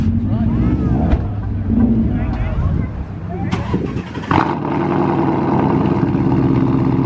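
A loud orange Ford Mustang GT350R idles and burbles with a deep, steady engine rumble, interrupted by a couple of sharp revs, while people talk over it nearby.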